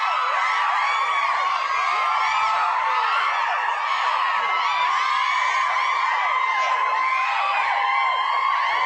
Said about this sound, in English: Sexy crowd cheer.